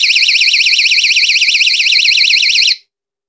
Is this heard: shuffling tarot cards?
no